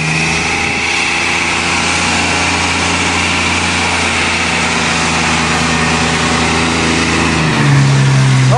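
A truck engine roars steadily at high revs during a smoky burnout, droning without a break, then drops abruptly in pitch near the end.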